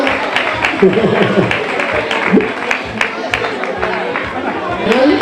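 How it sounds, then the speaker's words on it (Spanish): Crowd at a carnival celebration clapping and chattering, steady applause mixed with babble and voices close by. "Ahí ese aplauso muy fuerte, Morales"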